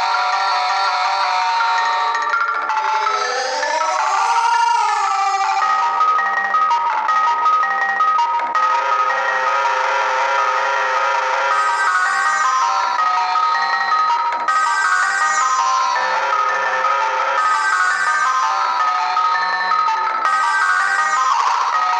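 Background music from the Paper Mario video game, a continuous bright, tinkling melodic tune with bell-like tones playing steadily throughout, with no talk.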